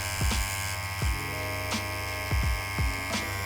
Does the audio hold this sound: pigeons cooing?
no